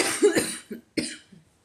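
Two sharp coughs, close and loud, separated by a short pause, followed by a softer trailing breath.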